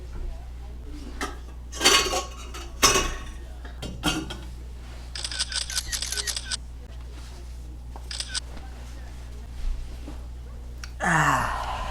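A pot clatters against dishes in a series of sharp metallic clanks and rattles, with a person sighing and speaking softly between them, in a kitchen before cooking ramen.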